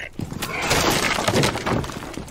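A barricade is smashed apart in Rainbow Six Siege, loud splintering crashes and breaking debris in quick succession, with a voice talking over the noise.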